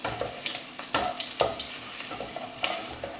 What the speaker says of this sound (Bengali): আমি কাঁচা লঙ্কাটা ফোড়নে দিয়ে দিচ্ছি।